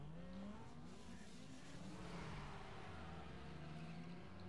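A racing car engine in Need For Speed Underground 2 holds a steady high roar with rising and falling pitch as gears change. It sits faint and continuous, with no voices over it.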